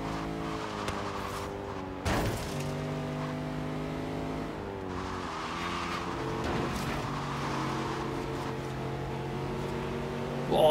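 Race car engines, including a nearby Ford Focus RS, rev and shift through gears in a racing game, loud and close, with engine pitch rising and falling and occasional thumps, no talk.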